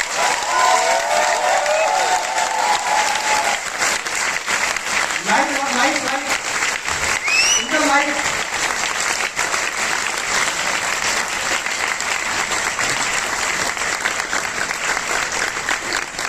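Sustained loud applause and cheering from a large seminar crowd fills the whole stretch, with a voice briefly calling out over it.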